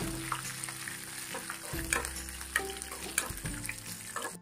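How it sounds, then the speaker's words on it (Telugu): Curry leaves sizzle and crackle in hot tempering oil for an elephant-foot yam chutney, a close, steady frying hiss broken by small pops and a stirring scrape. "ఫైనల్ గా కరేపాకు కూడా వేసుకుందామండి"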